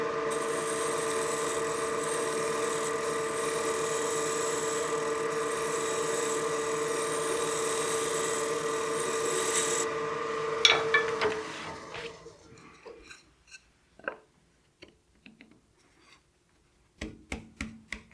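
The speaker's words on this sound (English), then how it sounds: "we'll get our skew into a couple more cuts and get this right on the money" A skew chisel cuts a spinning wooden box on a lathe, giving a steady scraping rasp for about ten seconds that stops abruptly, followed by scattered short knocks and taps.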